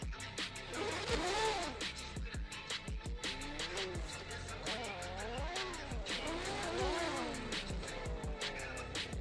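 A drift car in a virtual racing championship slides through the track. Its engine rises and falls in repeated high revving swells, with tire squeal under an excited commentator's voice.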